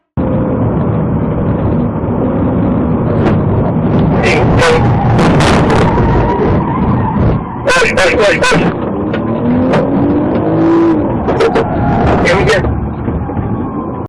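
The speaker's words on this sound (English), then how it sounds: "the situation quickly escalated into a high-speed chase" Cars race in a high-speed police chase after a traffic stop, sirens wailing and warbling over continuous road and engine roar, with sharp bursts breaking through midway and again near the end.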